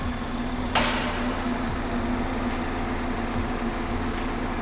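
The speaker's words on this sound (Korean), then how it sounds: "엔진 소리 일정하네요." A steady engine idle from a BMW 5 Series G30 530i xDrive hums low and even throughout, with a brief sharper noise burst near the start and faint background sounds.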